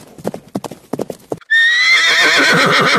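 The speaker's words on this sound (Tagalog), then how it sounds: "tila bakalansing ng bakal at pagaspas ng kabayo" A few sharp hoof clops ring out in an uneven rhythm, then a horse lets out a loud, drawn-out neigh.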